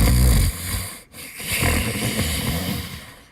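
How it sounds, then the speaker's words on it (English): A creature curled up in a muddy puddle snores loudly, a few deep rasping breaths in a low rumbling rhythm, close and heavy with no one talking. "snoring loudly"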